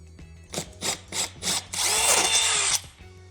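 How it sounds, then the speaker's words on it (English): Four short bursts of a power drill, then a longer steady whine as it bores into drywall, close and loud. "grab your drill with the drill bit and screw a hole into the wall."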